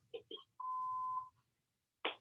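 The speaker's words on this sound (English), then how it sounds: "Please leave us a message after the beep." A short electronic beep sounds as a single steady tone, framed by brief quiet clicks and a burst of noise after it.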